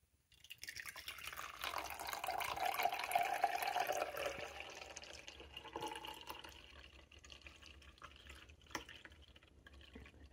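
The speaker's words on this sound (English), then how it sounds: "Time to pour it in some glasses." Freshly made juice poured from a container into glasses, a steady gurgling liquid stream swelling then tapering off, close and moderately loud, with a few drips at the end.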